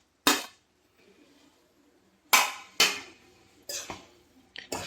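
A utensil stirs okra with onion and tomato masala in a pan, giving a handful of sharp metallic clanks and scrapes separated by brief quiet gaps.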